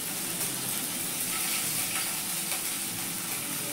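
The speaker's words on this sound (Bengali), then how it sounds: "আদা রসুনটাকে ভালো করে ভেজে নেব" Chopped garlic and ginger frying in a pan give off a continuous bright sizzle with faint stirring scrapes, steady and close, with no talking.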